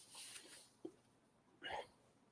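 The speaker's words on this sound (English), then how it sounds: "Excuse me, hiccups." A person hiccups sharply once, then again a moment later, close and fairly loud, with some low murmuring talk before the first one.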